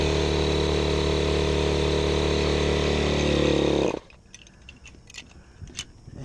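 A Sevylor 12V programmable electric pump runs with a loud, steady, close-up motor drone, then cuts off abruptly, leaving only faint scattered handling noises.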